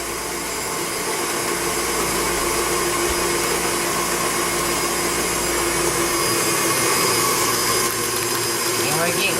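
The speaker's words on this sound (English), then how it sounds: "I'll vacuum seal the other one in our food saver." A steady, loud motorized whir runs without pause, a FoodSaver vacuum sealer pump humming continuously from start to finish.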